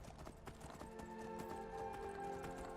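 Horse hooves clip-clop at a steady walking pace in the Skyrim video game, a continuous, moderately quiet run of hoofbeats over a tonal game-music background.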